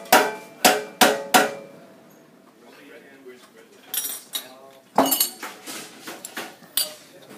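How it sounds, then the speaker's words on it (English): Sharp metallic strikes as sheet metal corners are hammered during fabrication: four loud, evenly spaced blows open the clip, then a busier stretch of clanks and clinks follows, with lighter knocks in between. "You'll just have to hammer those corners."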